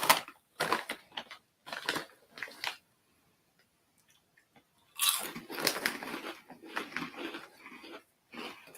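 Loud, close crunching and biting on a crisp, churro-like cinnamon snack, several bursts of chewing in the first two seconds, a quiet pause, then a longer stretch of steady crunching.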